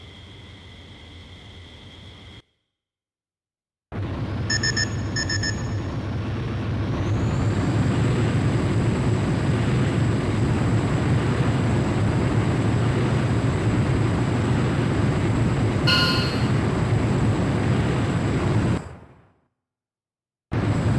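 A jet fighter takes off in the PSP video game Ace Combat: Joint Assault. After a short gap, a loud sustained engine roar builds and holds for about fifteen seconds, then cuts out abruptly.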